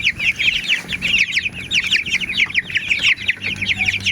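A group of about ten growing chicks chirps busily and continuously nearby, rapid overlapping high peeps with an occasional soft flutter.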